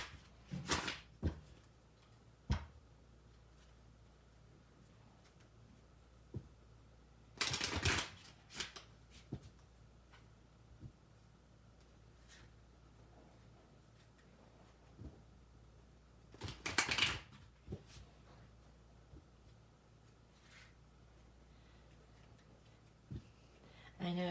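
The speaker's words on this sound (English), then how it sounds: "I like to show me shuffling, show that I'm not rigging the cards" Tarot cards are shuffled in a quiet room: soft riffles and taps recur intermittently, with a few louder shuffling bursts standing out against a faint background hum.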